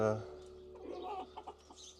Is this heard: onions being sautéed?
no